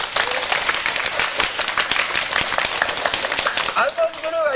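Audience clapping at a live music event to vote for a song, a brisk mixed burst under voices and crowd noise, with a rising tonal sound near the end.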